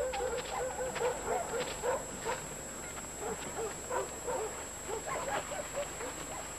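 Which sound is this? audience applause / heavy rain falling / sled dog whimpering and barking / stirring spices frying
sled dog whimpering and barking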